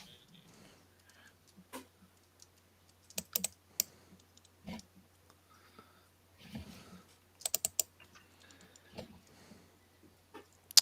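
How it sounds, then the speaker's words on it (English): Keyboard typing in scattered bursts of clicks, fairly close, with a faint low hum underneath and no talking. "So who's typing on their keyboard?"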